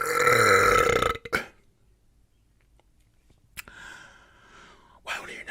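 A loud, drawn-out burp from someone eating a Lucas Muecas watermelon lollipop, close to the mic and about a second long, followed by silence, a sharp breath and quieter mouth sounds.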